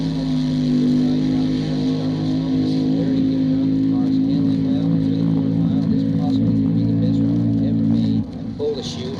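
A steady, loud engine drone from an AA/Fuel dragster holds for about eight seconds and then drops away abruptly as the car slows at the end of its run.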